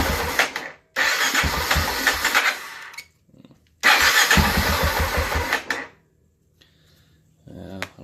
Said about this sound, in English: I'm actually going to fire my bike up real quick to kind of show you the RPM actually working